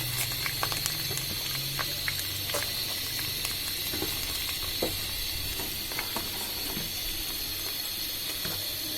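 Chopped onion frying in hot mustard oil, a steady bright sizzle and crackle with light clicks throughout, close and even, no talking.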